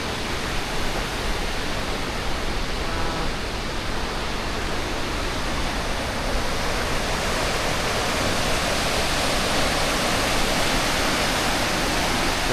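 A glacier-fed river flowing below Osorno volcano near Puerto Varas gives off a constant broadband rush of water, loud and close, steady throughout with no talking.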